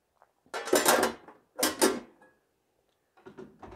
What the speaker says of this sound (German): Das ist einfach ein, ein kleiner Edelstahlbehälter, den kann ich dann auch aushängen